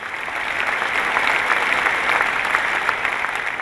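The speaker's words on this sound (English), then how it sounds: "why are we clapping for him?" Audience applause at a motivational seminar in a hall, steady dense clapping from a large crowd that fills the whole stretch at an even, fairly loud level with no speech over it.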